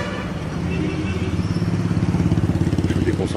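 A motorcycle engine chugs amid dense traffic in Pondicherry, India, a rapid pulsing putter close by over a wash of road noise and other vehicles.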